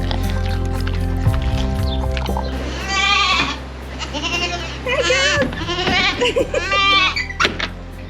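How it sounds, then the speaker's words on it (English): Bottle-fed baby goats bleat in a home garden, several wavering calls in quick succession close by, over a steady low hum and some background voices. "Our bottle baby goats are getting really, really big."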